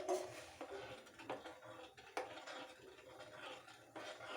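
A utensil scrapes and taps against a kadai while boiling powdered milk is stirred, with soft irregular clinks and scratches at a low level and no talking.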